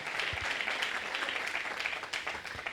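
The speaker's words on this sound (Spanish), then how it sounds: "un aplauso para la palabra del Señor" A church congregation claps together in steady, even applause that fills the room for a few seconds, with no talking over it.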